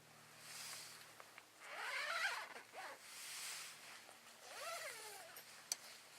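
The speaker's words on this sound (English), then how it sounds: "unzip the screen on this side and the screen on the left side" A hammock's mesh screen is unzipped in two long pulls, the first more drawn-out and the second shorter, faint and close in a quiet outdoor setting, with nobody speaking.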